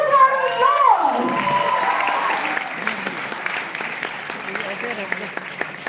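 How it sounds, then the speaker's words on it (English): A crowd applauds steadily with scattered cheers and children's shouts at a company Founders Day event, the clapping fading somewhat toward the end as voices carry over it. "with your huge round of applause"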